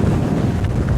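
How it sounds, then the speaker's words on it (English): Strong wind on the summit of Helvellyn buffeting the microphone, a loud, low rumbling roar that fills the brief moment with no voices. "it's extremely windy up here."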